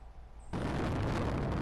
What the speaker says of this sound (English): So the rocket is launching off